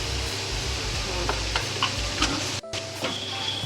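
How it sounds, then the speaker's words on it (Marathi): Spices frying in a pan for a curd vegetable curry sizzle steadily up close, with soft scraping and stirring strokes and a brief clack partway through. "त्याला थोडं मिक्स करून घेऊया."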